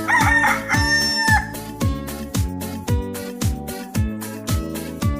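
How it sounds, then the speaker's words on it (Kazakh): A rooster crows loudly and close by in a single long cock-a-doodle-doo, heard alone over a steady, rhythmic thumping backing beat. "Әтеш."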